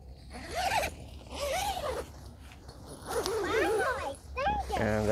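Zipper of a camping tent door being pulled open in a few drawn-out rasping runs, close and fairly loud, with people talking over it.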